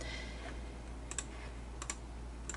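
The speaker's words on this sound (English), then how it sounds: "I'm going to type in my name" Keys tapped on a computer keyboard in short clustered bursts, fairly quiet over a low steady hum, with no talking.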